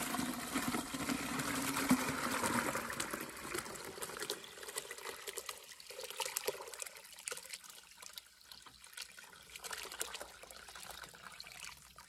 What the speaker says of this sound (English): And we're just going to pour it into the pail that the stinging nettle compost tea was